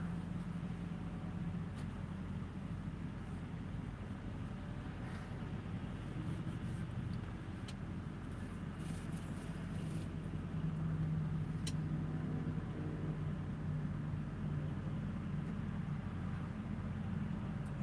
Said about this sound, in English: Down there watching the traffic get on the road.